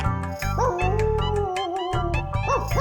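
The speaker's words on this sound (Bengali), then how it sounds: "এই রে, এই কুকুর ডাকছে।" A dog howls in long, wavering cries, with a steady low rumble beneath and a brief break before the howling resumes.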